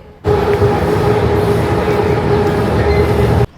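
A metro train in Bangkok roars past close by, a loud steady rumble with a faint whine that starts abruptly and cuts off after a few seconds.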